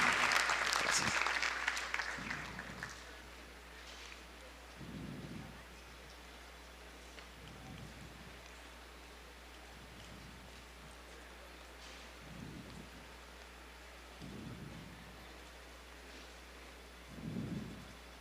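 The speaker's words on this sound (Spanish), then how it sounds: "Brindémosle, por favor, un fuerte aplauso al doctor Miguel Alejandro López Olvera" A burst of audience applause at a congress opens loud and washes out within a couple of seconds, leaving a quiet hall with only occasional soft low thumps.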